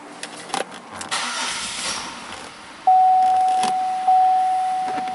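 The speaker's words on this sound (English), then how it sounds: "Alright, so the engine is running." Buick LeSabre engine starting, with a brief crank and the engine catching into idle, followed by a steady electronic beep tone that runs to the end.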